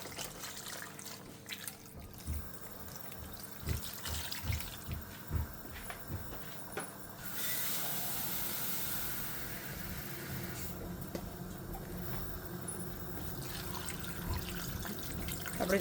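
Water is poured and trickled into a cooking pot while stuffed crabs are being made, with splashy drips and uneven pouring bursts, then a steadier stream for several seconds before it breaks off.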